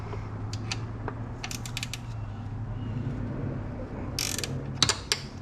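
A ratchet wrench clicks while loosening a 12 mm bolt on a Toyota alternator, with short bursts of close, crisp pawl ticks over a steady low mechanical hum.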